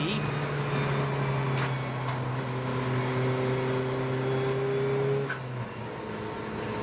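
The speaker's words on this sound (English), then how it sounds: "His twin brother Scott Parkin comes across the line now to win Class B." Golf TDI race cars at the Anglesey circuit crossing the finish line, a sustained droning engine note with steady tonal hum that drops away near the end, under faint background commentary.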